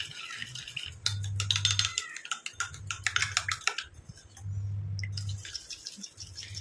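A spoon stirs coffee-powder hair dye paste in a small bowl, making repeated wet scraping and clinking strokes in short bursts, close and fairly quiet.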